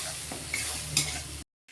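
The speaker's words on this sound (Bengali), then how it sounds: "মশলাটা ভালোভাবে ভেজে নেব।" Spices frying and being stirred in a pan for a Bengali tel koi fish curry, a steady close sizzle with scraping stir strokes, then cutting off abruptly near the end.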